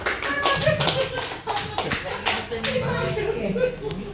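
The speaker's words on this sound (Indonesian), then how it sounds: "Tepuk tangan untuk kita semuanya ya." A room of adults at a positive-culture teacher sharing session claps in loose, uneven bursts, fairly close, with voices and a little laughter mixed in.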